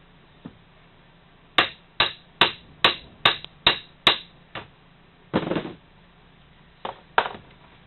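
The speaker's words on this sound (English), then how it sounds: "I'm going to tap it down just a little with the socket." A part is tapped into place with a socket as the ring is seated, giving about a dozen sharp metallic knocks in an uneven series, loud and close, with no speech.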